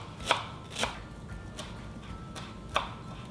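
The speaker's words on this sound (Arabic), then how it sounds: "رح اخد بامة كزبرة وافرمها فرم صغير" A bunch of coriander is chopped finely with a knife on a board: four crisp, spaced knife strikes, close and clear against a quiet background.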